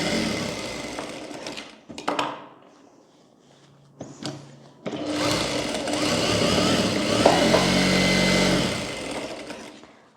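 A sewing machine stitching a blouse runs in short bursts, then a long steady whirring run of rapid needle clatter, close and fairly loud, with pauses and handling between.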